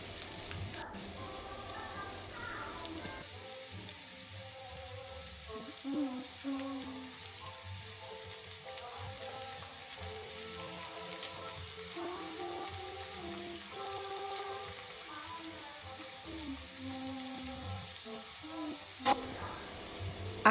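Potatoes frying to golden in a breakfast skillet give a steady, soft hiss and sizzle that runs throughout, with faint clatter and no speech.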